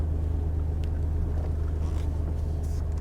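A Mazda6 engine runs with a deep, steady low rumble close by, idling and pulling forward as it is driven onto a trailer, with faint knocks and rattles over the drone and no talking.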